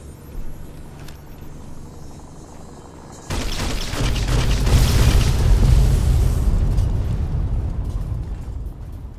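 Heavy airstrike explosions from the Frontier mod for Fallout New Vegas hit after a quiet stretch, swelling into a sustained, loud rumbling boom that rolls on for several seconds.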